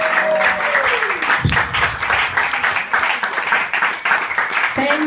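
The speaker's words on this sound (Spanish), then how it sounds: "Aplausos" An audience applauds continuously, a dense, loud wash of clapping that swells and dips across the whole stretch, with faint voices mixed in.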